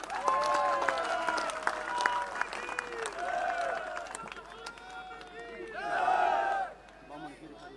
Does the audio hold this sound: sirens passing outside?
no